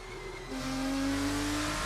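Race car on the Barcelona circuit in a racing game, its engine climbing steadily in pitch as it accelerates, a smooth rising tone heard alone without voices.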